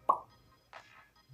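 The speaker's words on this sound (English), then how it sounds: "The pop sound is my favorite." Soft interface pops from an Apple Vision Pro headset: two short bubbly plops about two-thirds of a second apart, quiet and close, with nobody talking over them.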